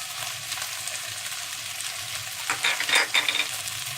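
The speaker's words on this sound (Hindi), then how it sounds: "प्याज जो है वो आप अच्छी तरीके से हिला लें, कहीं ये ना हो" Onions and okra stirred and fried in a pan, a steady close sizzle of hot oil throughout, with a burst of louder scraping and crackling stirring strokes in the last second and a half.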